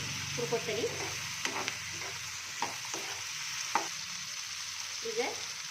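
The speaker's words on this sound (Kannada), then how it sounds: "ಒಂದು ಇಂಚಷ್ಟು ಚಕ್ಕಿನ ಹಾಕೊಳ್ಳಿ ಎಣ್ಣೆ ಒಳಗೆ" A piece of cinnamon bark frying in oil in a pan, a soft steady sizzle with a few sharp stirring clinks and scrapes, with faint voices in the background.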